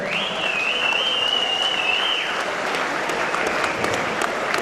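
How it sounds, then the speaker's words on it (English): A crowd at a Thai fighting event applauds steadily for nearly five seconds, with a long whistle rising over the clapping in the first two seconds. "please give both these young Thai fighters a big round of applause."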